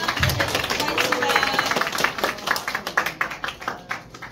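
Audience clapping at a lecture on running and exercise physiology, a burst of hand claps from a modest crowd that thins into scattered individual claps toward the end, with some voices mixed in.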